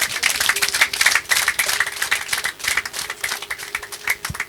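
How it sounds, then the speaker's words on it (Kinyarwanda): A crowd at a family gathering in Gisenyi, Rwanda claps for elders, a dense rattling patter of many hands that rises and falls without pause, close and fairly loud. "amashyi"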